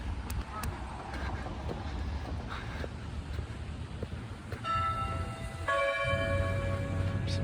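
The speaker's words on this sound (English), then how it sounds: "Some church bells." Church bells ringing faintly in the distance around Church Circle in downtown Kingsport on a rainy day, heard under steady rain and wind noise, with a clearer sustained bell tone entering near the end.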